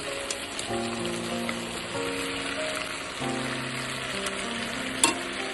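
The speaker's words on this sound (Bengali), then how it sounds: "সব মশলাগুলোকে নাড়াচাড়া করে নিতে হবে।" Spices frying in a pan for a potato and stem curry with tangra fish: a steady close sizzle with stirring scrapes, a faint background tone, and one sharp clink near the end.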